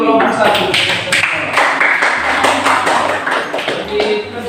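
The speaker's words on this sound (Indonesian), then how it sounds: "kita beri tepuk tangan untuk kelompok satu" Classmates clap for group one in a classroom, a loud, uneven patter of hand claps with a few sharp taps standing out and voices murmuring underneath.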